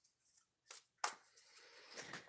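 A deck of tarot cards is shuffled twice by hand, two short, quiet riffling bursts separated by a pause, followed by a soft shuffling rustle in an otherwise silent room.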